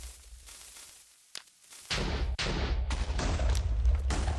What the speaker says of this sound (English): Look away from explosions.